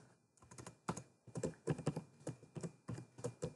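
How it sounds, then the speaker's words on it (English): Rapid, uneven clatter of keys on a computer keyboard while a slogan for a painting business card is typed, close and fairly quiet, with brief pauses between bursts. "Let's type in a slogan."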